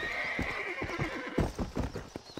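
A horse in the video game Red Dead Redemption whinnies over a run of quick clip-clopping hooves, fairly close and moderately loud, with no voices.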